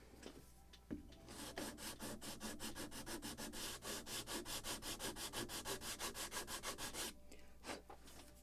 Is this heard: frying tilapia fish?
no